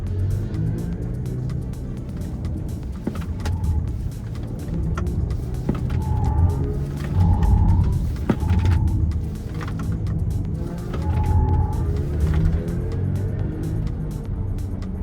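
A BMW iX3 50 xDrive electric car is driven through a slalom at about 60 km/h, giving a steady low road rumble and tyre noise with faint whining tones rising and falling as it swerves.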